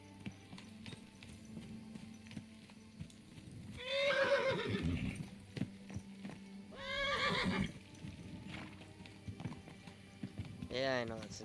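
A horse in the video game Kingdom Come: Deliverance 2 stumbles along a narrow, rocky path. It gives two loud whinnies, then a shorter neigh near the end, over soft clip-clopping hooves.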